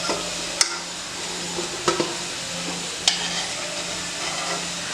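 Ghughuti dough sweets fry in a pan with a steady, soft hiss of hot oil, broken by a few faint clicks and taps.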